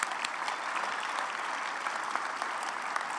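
Audience applause for award winners at a city State of the City address, a dense, even burst of many people clapping heard close and alone for a few seconds.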